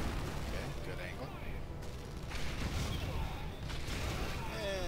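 Weapon test firing in the video game Red Faction Guerrilla comes through as dense, continuous gunfire and explosive rumble filling the whole stretch, loud and busy with no quiet gaps.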